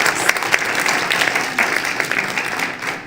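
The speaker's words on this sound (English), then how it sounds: "Please give a round of applause and thank you for all of our sponsors." Dense, steady applause from an audience at a school board meeting, thanking sponsors, loud and close throughout with no talking on top.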